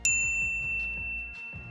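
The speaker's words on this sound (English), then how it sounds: "ring the bell to get notified about our latest" A single bright notification bell ding rings out clearly at the start, its tone ringing on and slowly fading, with soft low musical tones underneath.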